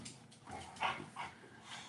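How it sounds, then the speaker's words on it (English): A dog gives a few short, nearby yelps and whimpering barks, with quiet room noise in between and no one speaking. "Crazy dog."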